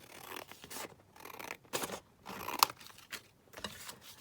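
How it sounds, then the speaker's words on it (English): Scissors cut through folded paper for a handmade Christmas craft project, with several close, crisp snipping strokes in short uneven bursts. "So I'm just going to cut it down like this."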